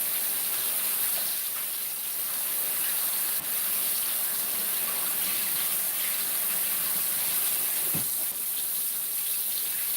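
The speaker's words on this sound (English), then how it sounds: "let me rinse my hands real quick" Water runs steadily from a kitchen tap while hands are rinsed under it, a continuous close-up gushing with no talking.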